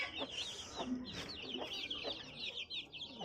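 Newly hatched chicks cheep in quick, high, repeated chirps that overlap throughout, close by and fairly quiet.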